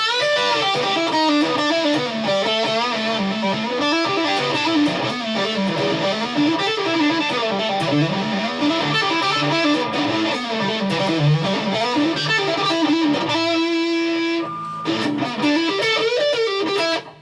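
Heavily distorted electric guitar plays a thick, saturated riff continuously, loud and dense, with a brief sustained note near the end before cutting off.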